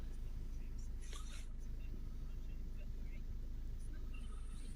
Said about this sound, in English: Start it back up and let it idle again for just a minute or two.